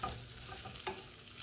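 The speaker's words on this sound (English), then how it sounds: "We're just gonna saute it in our diced onion, chopped garlic," Diced onion, chopped garlic and jalapeño sauté in a pan with a steady, quiet sizzle and a soft stir or two, close by and with no voices.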